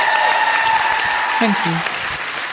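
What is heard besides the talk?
audience applause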